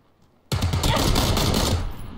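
Gunshots in PlayerUnknown's Battlegrounds: after a short quiet moment a loud, close burst of rapid automatic fire rattles on for well over a second and then fades.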